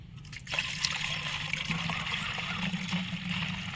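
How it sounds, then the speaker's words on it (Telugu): Water pours steadily into a spray bottle, a continuous trickling splash that begins after a brief pause and holds its level. "దీంట్లో 2 లీటర్స్ వాటర్ అయితే"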